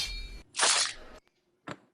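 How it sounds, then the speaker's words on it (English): A metallic blade sound effect for Wolverine's claws from X-Men: a bright ringing scrape, then a harsh swelling metallic swish, and a short sharp snap after a brief silence. "This is actually the sound of Wolverine's claws."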